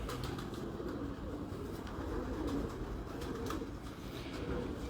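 Domestic pigeons at a bird keeper's loft in Multan coo softly and steadily throughout, mixed with faint rustling and low background noise.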